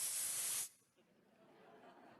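Makeup setting spray hissing out in one loud, steady burst lasting just over half a second, then cutting off to a quiet room.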